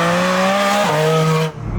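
A Porsche 718 Spyder RS sports car drives past with a loud, high-pitched engine wail that drops in pitch through a gearshift, then cuts away abruptly.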